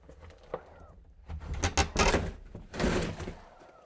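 The door of an abandoned, bird-filled house in Colorado being opened: a few thuds and scrapes as it is worked loose, followed by rough rattling and creaking bursts, close and fairly loud.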